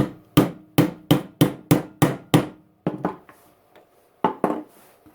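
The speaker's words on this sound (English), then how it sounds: "time to get a little socket and tap that gear on" A small socket tapped with a hammer to seat a gear during a Milwaukee hammer drill repair: a quick run of about nine sharp, evenly spaced metallic knocks, then a pause and a few scattered louder taps.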